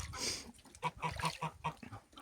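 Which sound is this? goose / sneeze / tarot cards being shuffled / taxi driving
goose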